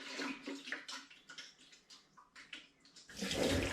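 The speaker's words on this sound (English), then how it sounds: "Just going to give the outside of my fermenter a bit of a rinse." Water splashes and runs over the outside of a homebrew fermenter holding apple wine, a steady close rush that swells into a louder, fuller gush near the end.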